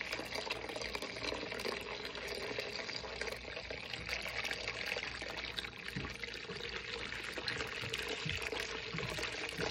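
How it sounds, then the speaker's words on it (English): Water draining steadily from a small steam boiler, flushed down to test a probe-style low water cutoff; a constant close pouring, splashing rush that runs without break for the whole stretch. "really drain just a few gallons to drain it down to test the low water cutoff"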